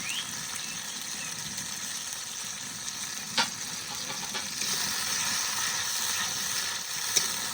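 Ground spice paste fries slowly in a pan over a low wood fire for a village-style chicken curry. A steady, close hiss of sizzling continues throughout, broken only by a couple of brief scraping clicks.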